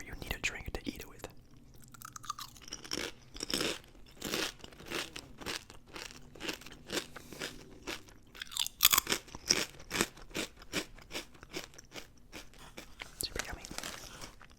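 Salty Panera chips crunch up close in steady, repeated bites, with whispered talk weaving among the chewing.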